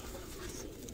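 A Sialkoti pigeon gives a short, low coo, fairly faint, against a dense background hum.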